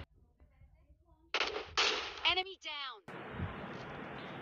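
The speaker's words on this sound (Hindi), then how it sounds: "अब हम उसे पेलने वाले हैं AWM का हेडशॉट" An AWM sniper rifle fires a headshot in PUBG Mobile Lite: a short burst of voice-like sound comes first, then a sharp, loud crack that breaks into sustained noisy gunfire ambience.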